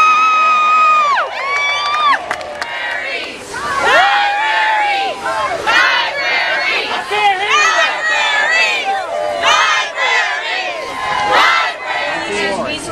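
A crowd, many of them children, cheers, shouts and whoops in loud repeated bursts, with high excited voices rising and falling.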